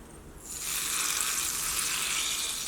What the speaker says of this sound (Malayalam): തേങ്ങക്കൊത്ത് വേണമെന്ന് വെച്ചിട്ടുണ്ടെങ്കിൽ തേങ്ങക്കൊത്തും കൂടിയിട്ട് വറുത്തിട്ട് ചേർക്കട്ടെ.